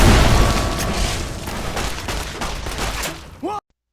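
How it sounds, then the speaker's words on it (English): Gunfire and grenade explosions in Fallout: New California, a loud rapid volley of shots and booming blasts that fades over a few seconds, ending in a short burst and sudden silence. "shooting at everybody at the door of the bunker and throwing out hand grenades"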